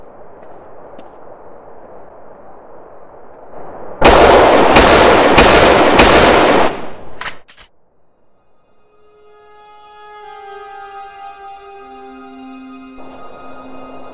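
A bomb explodes in the video game GTA V as a loud, sudden burst of several rapid booming blasts lasting about three seconds, cut off abruptly and followed by quiet, sustained ringing tones.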